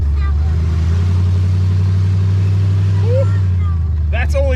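A Fox Body Mustang 5.0 V8 with open long tube headers idles and revs near 2,000 RPM, a loud, deep, steady rumble close by, with people talking over it.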